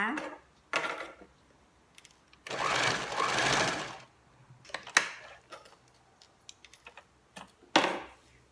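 A sewing machine stitches the button placket of a single-strap top: one long, steady whirring run in the middle, with shorter bursts, clicks and handling knocks around it, close by and with no talking.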